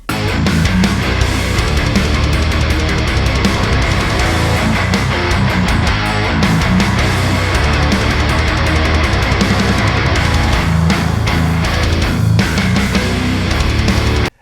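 Two layers of high-gain rhythm guitar, a Mesa Rectifier amp tone blended with a Grindstein pedal, form a thick, loud, unbroken wall of distorted riffing with tight rhythmic hits throughout.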